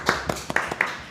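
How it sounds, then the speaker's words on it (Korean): An audience at a fintech governance forum session gives brief, thin applause, a few scattered claps heard from a distance before fading out. "다시 한번 박수 부탁드립니다"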